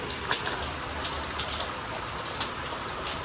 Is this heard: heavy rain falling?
yes